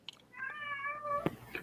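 A house cat gives one drawn-out meow, close but soft, over quiet room noise with a few brief clicks.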